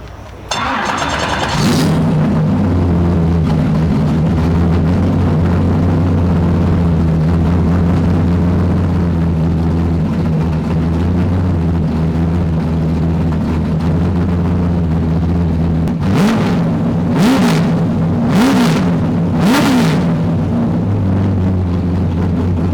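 A Mustang race car engine rumbles at a steady, loud idle, then revs sharply in several quick bursts near the end.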